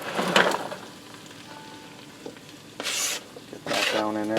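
Vegetables stirred into browned beef inside a pressure cooker: a steady sizzle with scraping spoon strokes, close and fairly loud, swelling in bursts as more is tipped in and mixed.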